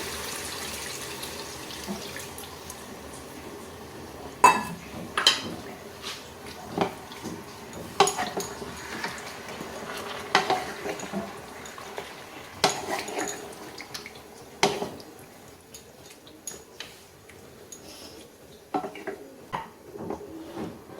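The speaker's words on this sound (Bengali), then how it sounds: "এবার আমি বাদাম বাটা বাটিটা ধুয়ে সামান্য একটু জল দিয়ে দেবো আর দেব হাফ কাপ পরিমাণ দুধ" A bowl that held nut paste is rinsed with water and milk is added to a cooking pot, with irregular clinks of dishes and utensils, splashing water and scattered knocks, no speech.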